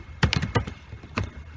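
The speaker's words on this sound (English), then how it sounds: "Here in this section of the search box, you will type disk management." Computer keyboard keys are tapped in a short burst of a few quick presses, then a pause and one more press, close and clear with no voices.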